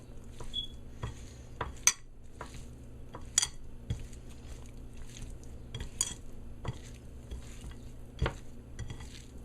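Shrimps being stirred and rubbed in a pan for a katahar curry, with repeated clinks of a utensil against the metal over a steady low sizzle, the scrapes and taps coming irregularly every second or so.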